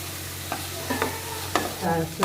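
Vegetables, capsicum among them, sautéing with salt and cashews in a pan: a close, steady sizzle broken by four or five distinct spatula scrapes spaced about half a second apart, with no one talking.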